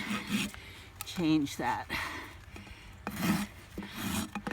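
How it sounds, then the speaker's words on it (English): A farrier's rasp files and lightly burnishes the heel of a horse's hoof, giving rough, rhythmic scraping strokes close by, with someone talking briefly between them. "we're going to very lightly burnish the heel"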